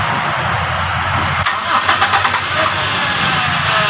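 A Toyota Revo gasoline engine with a stalling fault cranks and catches, then settles into a loud, steady idle close by, with no one talking.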